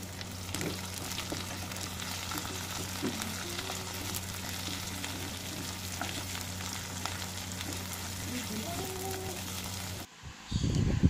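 Meat and tomatoes sizzle steadily in a hot pan while being stirred for Filipino pinakbet, a continuous close frying crackle with occasional scraping, ending in a brief louder clatter.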